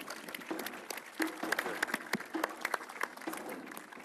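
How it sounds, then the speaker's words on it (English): Scattered audience clapping at the Africa Cup of Nations 2019 draw ceremony, a thin patter of individual claps at moderate distance with a few sharper close claps. "A round of applause for the legend"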